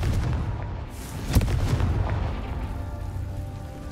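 Confringo fire-explosion spell in Hogwarts Legacy, heard as a single sharp blast that rolls into a rumbling tail over ongoing background noise.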